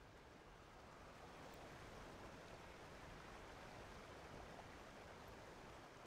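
Steady flowing water ambience in a video game, a constant quiet wash of broadband noise like a stream or surf with no breaks, heard alone.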